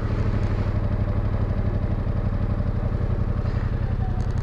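A 2022 Yamaha XSR 700 motorcycle engine runs steadily at close range with an even, low, throbbing rumble as it pulls away at modest speed.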